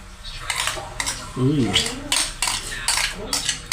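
Pork ears, pig mask and goat meat for Ilocano-style dinakdakan being tossed and mixed with utensils, giving repeated clattering and scraping against the bowl, close and fairly loud, with a short voice sound partway through.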